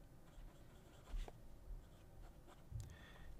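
Italian fountain pen with a 14 karat quill nib scratching across paper, a faint dry rubbing with a couple of slightly louder strokes, close and alone.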